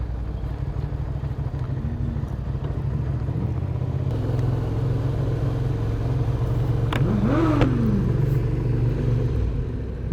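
Vehicle engine revving on a street in Canary Wharf, a loud steady rumble that rises and falls with a clear rev sweep near the end, heard close over constant traffic noise with no talk.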